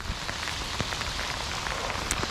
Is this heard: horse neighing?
no